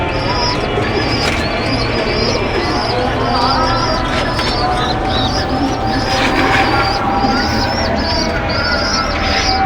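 Pigeons coo softly in a loft or collection of pet birds, repeated murmuring calls over a dense, constant background of many birds and steady noise.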